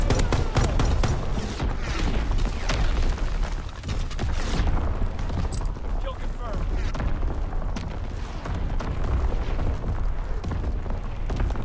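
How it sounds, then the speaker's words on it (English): Incoming enemy artillery in a first-person shooter game: heavy booms and dense explosive rumble pile up continuously with scattered gunfire, loud and close, while voices talk over the barrage. "Incoming enemy artillery."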